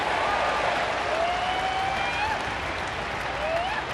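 A baseball crowd at a Twins versus White Sox game roars and applauds in a dense, steady wash of cheering, with scattered whistles rising above the noise throughout.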